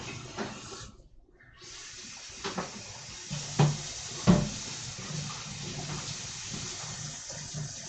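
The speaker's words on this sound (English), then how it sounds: "Doing a little bit of rinsing and refilling the rinse of various bottles." Tap water runs steadily while dye bottles used for yarn dyeing are rinsed and refilled, with a brief pause, then plastic knocks and splashing gushes as the bottles fill, close by.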